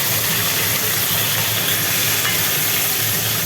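Malabar spinach, pumpkin, ridge gourd and potato sizzle in hot oil in a pan, a loud, steady, broadband hiss that holds without a break and has no voices over it.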